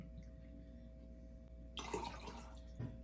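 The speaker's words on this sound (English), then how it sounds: "So we're putting 3 ounces of tequila in here." Tequila pours into a cocktail shaker in a short splashing burst after a quiet pause, followed by a brief trickle, close and fairly soft.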